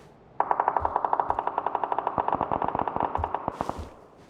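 A sustained burst of rapid automatic gunfire in PUBG on the Taego map, loud and steady, slowing into a few separate shots before fading out.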